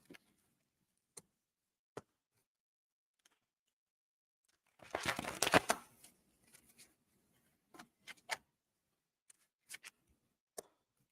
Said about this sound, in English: I definitely love to shuffle.